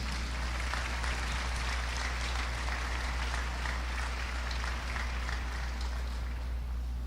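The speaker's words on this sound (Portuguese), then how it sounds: "Podem aplaudir, queridos" Steady applause from an audience fills the space, a continuous patter of many hands clapping over a low room hum.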